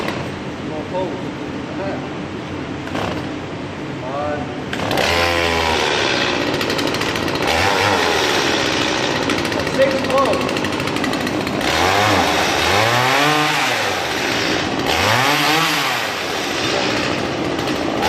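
A chainsaw that has sat unused for three weeks roars to life after pull starting, revving up and down in loud repeated bursts close by with a brief idle between throttle surges.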